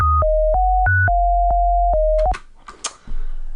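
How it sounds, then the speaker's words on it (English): Two pure synthesized sine waves, four octaves apart, step through a short melody, a steady low drone beneath a higher line, then cut off into faint noise and clicks. "you got a low octave and a high octave sine wave"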